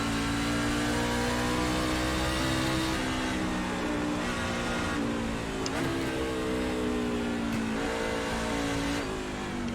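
A NASCAR Class C race car in the iRacing sim drones steadily under load through hilly wine-country turns, its engine pitch rising and falling with shifts and throttle, loud and continuous throughout with no voices.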